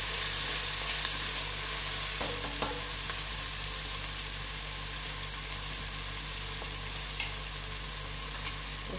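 Ingredients for chole matar frying in a pan, a steady low sizzle with occasional soft stirring scrapes, no voices.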